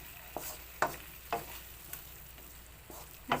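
Corned beef and potatoes sautéing in a pan, Filipino ginisang style, with a steady sizzle broken by several sharp scrapes and clacks of a spatula stirring at irregular intervals.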